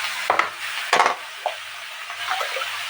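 Chili powder being stirred with water in a pan: a few soft scraping strokes of a spoon, two stronger ones near the start, then lighter wet swirls, close and fairly quiet.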